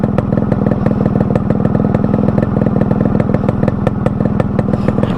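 A Yamaha RX100 motorcycle engine runs steadily nearby, its two-stroke beat a fast, even throb with sharp regular pops throughout, loud and continuous with no talking.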